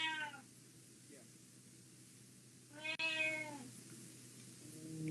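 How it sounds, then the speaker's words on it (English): A cat meows twice, a short call at the start and a longer drawn-out meow near the middle, fairly close and clear over a steady low hum, with a quieter mew at the very end. "Cat."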